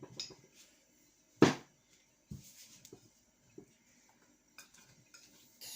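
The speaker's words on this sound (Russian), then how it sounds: "И снова перемешиваем." A spoon stirs stiff, thickening dough for microwave mini cakes in a bowl. It gives a few scattered scrapes and clinks, one sharp knock near the start, and faint rustling in between, close and quiet with no talking.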